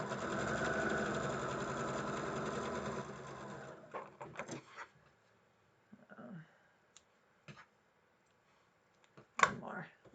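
A sewing machine stitches fabric in a fast, steady run for about four seconds close by, then stops, leaving scattered clicks, small handling noises and brief speech.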